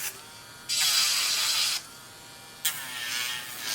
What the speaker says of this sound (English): I'm going to switch now to a sanding band to sand the inside of the rest of them.